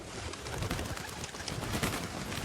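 Racing pigeons coo softly in a loft, low throaty murmurs that overlap and repeat quietly under a faint background hiss.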